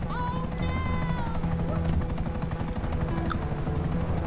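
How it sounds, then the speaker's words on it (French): A helicopter lands outside the FIB building in GTA Online, a steady rotor drone with scattered game tones and effects over it. "un hélico qui atterrit devant le FIB"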